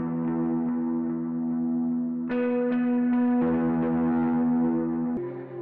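A sustained clean electric guitar chord rings out with dotted-delay echoing repeats, shifting to a new chord partway through and again near the end, with no voices.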